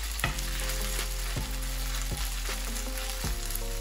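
Potato patties fry in very hot oil, a constant bubbling sizzle up close, with a few sharp knocks of a utensil against the pan at irregular intervals.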